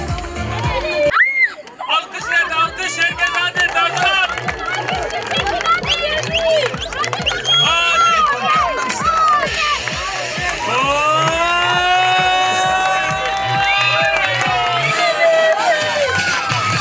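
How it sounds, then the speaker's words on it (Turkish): A crowd at an outdoor children's environment festival cheers and shouts in a dense, continuous roar, with excited voices rising above the hubbub throughout. "Alkış, alkış, alkışlar."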